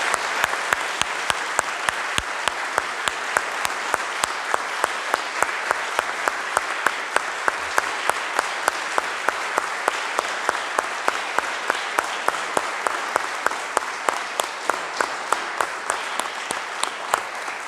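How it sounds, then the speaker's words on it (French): Applause from a church congregation for children just baptised at an Easter vigil Mass, with steady rhythmic clapping sustained throughout at even loudness and a faint voice now and then beneath it. "Je voudrais qu'on les applaudisse très fort pour leur baptême."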